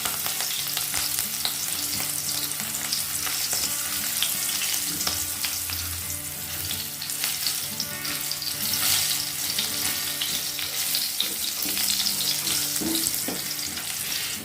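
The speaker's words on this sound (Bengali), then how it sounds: "এই ছেঁচে রাখা রসুনগুলো আমি তেলে দিয়ে দেব।" Crushed garlic frying in oil makes a dense, continuous sizzle that stays loud and even throughout, with faint utensil taps and a low background hum beneath it.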